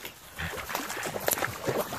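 A pug snuffles and grunts in short, close bursts outdoors near a swampy spot, with brief bits of voice mixed in.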